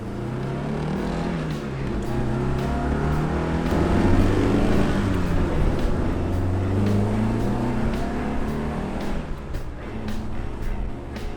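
A Jensen Healey with a Lotus engine revs hard, its note climbing and falling through the gears in a loud, continuous high-RPM scream.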